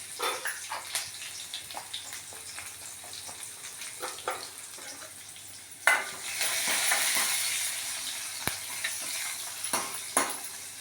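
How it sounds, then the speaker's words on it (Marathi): Gram flour (besan) roasts in oil with cumin, garlic, green chilli and asafoetida for kadhi, a soft hiss under repeated spatula taps and scrapes, swelling into a louder sustained sizzle midway. "हे बेसन तेलामध्ये भाजून घेते, त्यामुळे कढीला खूप छान चव येते."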